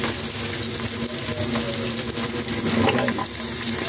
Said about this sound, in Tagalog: Guys, magigisa na tayo.